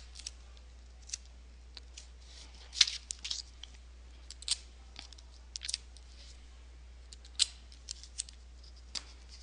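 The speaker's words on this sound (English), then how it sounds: "And then tape it several times to keep it secure." Hand-applied tape on a folded paper card, heard as several short, sharp crinkling tears and snaps spread unevenly over a quiet, faint background hum.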